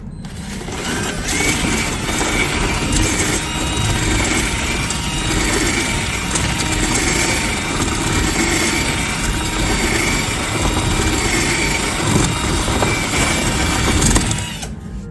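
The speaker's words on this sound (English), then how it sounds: "what I like to do is kind of Dremel, so I move the circular motion" Dremel rotary tool enlarging a hole in a carbon fiber front lip for a 2022+ Genesis G70, moved in a circular motion: a loud, close, continuous high-pitched buzzing whine that holds steady for the whole stretch, with no talking.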